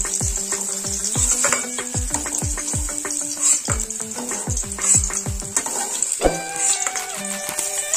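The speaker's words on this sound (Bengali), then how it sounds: "বেগুনটা ভাজা হয়ে গেছে," Eggplant frying in hot oil in a pan gives a steady hiss, with frequent clinks and scrapes from a utensil stirring and lifting the slices close by.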